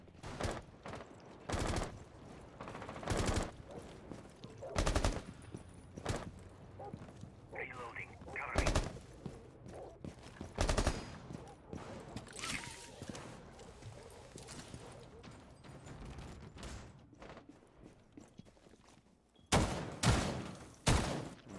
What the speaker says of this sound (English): Big old slug shotgun from Labine.